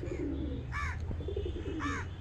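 A male desi Kalshira pigeon calls twice, two short, close bird calls spaced about a second apart over a low, steady coo-like murmur.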